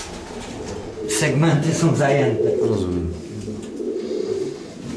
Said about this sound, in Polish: Widzimy, są gołębie sparowane już w celach.